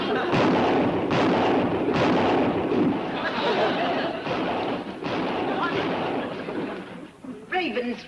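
Rural shooting by the Clampetts: a rapid string of loud gun blasts and booming reports, close and rough with wind-like noise, with voices shouting over the firing near the end.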